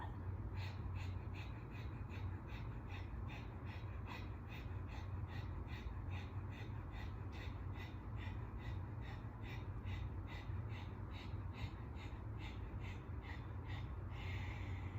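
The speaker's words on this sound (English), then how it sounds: "we call dragon breath or breath of fire" Rapid rhythmic breath-of-fire yoga breathing during a chair yoga session, quick forceful nasal exhales pulsing evenly and continuously at a soft, close level without talk.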